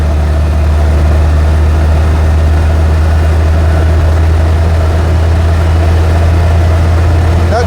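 An Invacar's small engine drones steadily and loudly as it picks up speed rolling downhill, a low continuous hum with wind noise and no talk.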